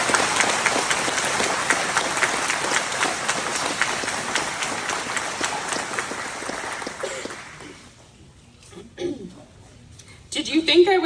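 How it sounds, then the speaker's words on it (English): Audience at a celebration-of-life memorial breaks into sustained applause, dense and steady for about eight seconds before fading, followed by someone speaking. "Please join me in giving everyone a massive applause."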